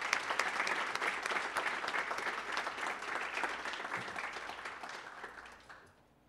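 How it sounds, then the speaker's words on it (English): An audience at a city State of the City address applauds warmly, dense clapping from many hands that holds steady for several seconds before tapering off and fading out. "Please join me in giving them a round of applause if you don't mind."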